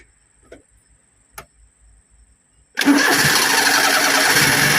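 A Perodua Kancil car engine with a starting fault cranks and catches abruptly after a few faint ticks, then runs steadily and loudly at idle close by.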